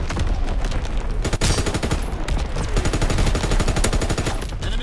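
Artillery and gunfire barrage in Call of Duty WWII: dense, rapid machine-gun bursts and booming impacts pound continuously at high intensity, close and relentless throughout.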